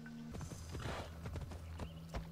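Horse hooves clip-clopping in Assassin's Creed Odyssey, a steady run of close, distinct hoofbeats with a brief whinny-like tone, no talk over it.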